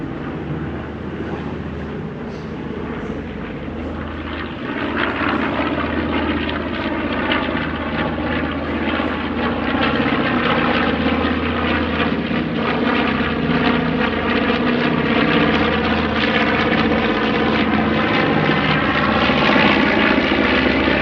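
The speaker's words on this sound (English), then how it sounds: "Probably gonna do a flyover." Piston aircraft with big round radial engines flying over, a loud propeller drone that swells after the first few seconds and holds steady and close through the pass.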